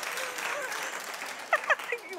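Studio audience applauding on a daytime talk show, a steady wash of clapping filling the whole stretch with a few louder voices or whoops near the end.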